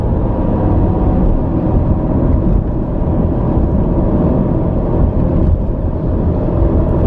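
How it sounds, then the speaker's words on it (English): A car drives along Cedar Lane in a Bergen County town early in the morning, its interior rumble and road noise a steady, loud broadband drone with no voices. "I'm driving up Cedar Lane again."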